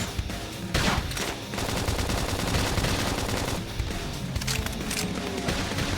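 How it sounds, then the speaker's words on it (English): Rapid bursts of gunfire in the Xenoblade Chronicles X video game, loud dense volleys of machine-gun-like shots that come and go in waves across the scene. "Try toppling it with gunfire."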